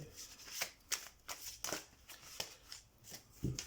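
Tarot cards shuffled and cut by hand, a series of soft, quick riffling and slapping bursts at irregular intervals, close and quiet.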